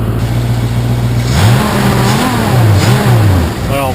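A 1967 Ford Mustang engine idles and revs unevenly, its carburetor fuel pump leaking, with a steady low rumble that rises in a few brief throttle blips up close.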